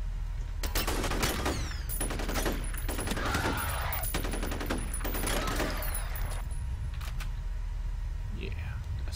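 Assault rifle fire in the F.E.A.R. shooter game, several loud rapid bursts across the first six seconds, with faint in-game voices and mechanical noises as the shooting trails off.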